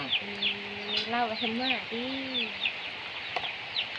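Chickens cluck close by in a run of short, repeated calls with a few drawn-out tones, while people talk over them.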